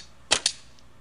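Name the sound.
arrow shot from steam-bent oak and glass recurve bow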